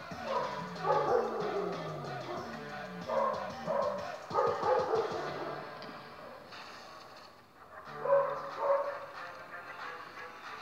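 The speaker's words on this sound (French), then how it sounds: "Excusez-moi pour les chiens" Several dogs bark and yip nearby in repeated bursts, with brief whimpers and pauses between the louder volleys.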